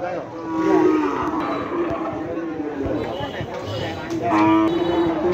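Cattle low and moo at the Khiratala cattle market, two drawn-out calls rising over a steady murmur of crowd voices and people talking nearby.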